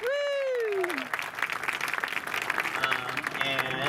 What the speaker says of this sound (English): so give them an extra round of applause